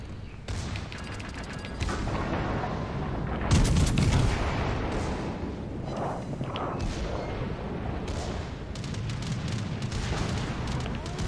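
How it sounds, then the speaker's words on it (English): Heavy 16-inch naval guns fire a broadside during a World of Warships Legends battle. Deep booms and rumbling explosions stack over continuous loud battle noise, with one especially heavy blast in the middle. "There's the 16-inch from the broadside, which I wasn't kind of expecting"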